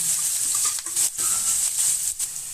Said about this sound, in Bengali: এবার আমি পেঁয়াজগুলো দিয়ে দিচ্ছি একটু লাল লাল করে ভেজে নেবো